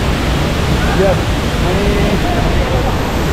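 Water plunges off a cliff at a waterfall in Kolhapur, giving a loud, dense, unbroken roar close by, and a voice briefly speaks over it.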